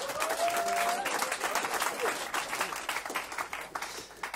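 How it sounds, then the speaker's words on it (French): Live audience applauding a man named Alan at an onstage event. The clapping is dense at first with a brief tone at the start, then thins into scattered claps as it fades. "On peut applaudir Alan."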